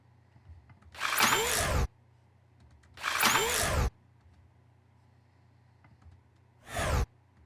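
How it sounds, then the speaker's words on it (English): A power drill sound effect used in sound design whirs in three loud, distinct bursts, each lasting about a second, over a low steady hum with no voices. "The drill is gonna come in instead."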